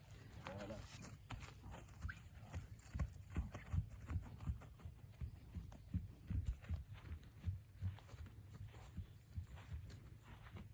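Hooves of a cold-blooded draft horse ridden bareback thud in an uneven walking rhythm on soft ground, quiet and close, with faint rustling and breathing around them.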